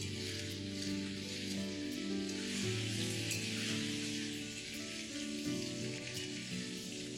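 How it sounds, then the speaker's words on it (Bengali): Potatoes fry in hot oil seasoned with turmeric and salt, giving a steady, dense sizzle and crackle that continues evenly throughout with no talking. "এবার তেলটা গরম হয়ে গেলে সবার প্রথম আমি এখানে আলুগুলোকে ভেজে নেব।"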